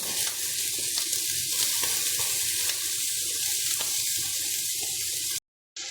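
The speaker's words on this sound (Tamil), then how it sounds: "வெங்காயம்லாம் நல்லா ரோஸ்ட் ஆகிடுது." Onions, coconut and almonds fry in a pan with a continuous close sizzling hiss and occasional stirring scrapes, with no talking, cutting to a brief silence near the end.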